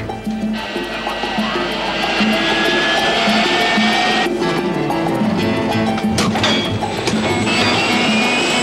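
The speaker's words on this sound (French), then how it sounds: "Le couloir d'envol est libre pour le décollage." An airplane takes off on a runway, its jet engines building into a loud, steady roar with a rising whine and rumbling underneath, heard from inside the cabin.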